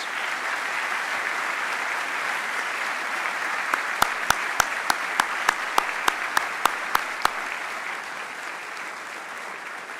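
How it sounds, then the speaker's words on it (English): A school assembly audience at a reunion event applauds in a steady, full wash of clapping, with a run of sharper, evenly spaced claps standing out near the middle, continuing throughout without talk. "I think we can give them another round of applause."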